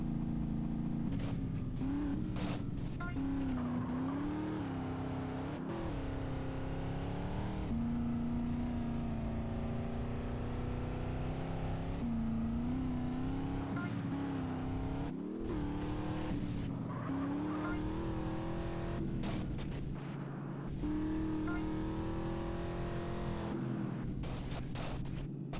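Race cars in a GTA San Andreas race, engine whine rising and falling continuously through repeated gear shifts, with occasional thumps and scrapes over a steady motor drone.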